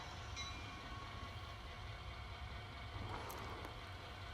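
A train rumbles steadily along after coupling up its caboose in the town of Oak Hill, a continuous low roar with faint wheel and rail noise and a brief brighter squeal near the end, no voices.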